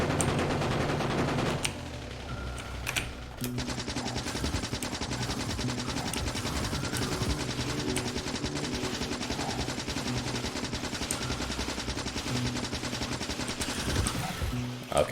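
Rapid, steady vehicle-mounted gunfire in the Factorio video game, a continuous mechanical rattle that holds for most of the stretch after a brief opening burst, loud and close, with no one talking.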